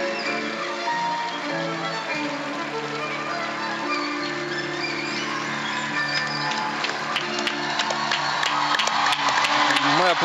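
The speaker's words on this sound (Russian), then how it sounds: "Аплодируем с Алексеем вместе со всеми зрителями, браво, со всеми трибунами" Arena audience at a figure skating free program competition in Zagreb applauds and cheers steadily, the clapping swelling louder toward the end beneath music and a commentator's voice.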